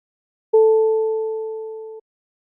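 A steady computer-generated electronic test tone, equal in left and right stereo channels, with a faint overtone, sounds alone for about a second and a half, starting and stopping abruptly and fading slightly as it goes.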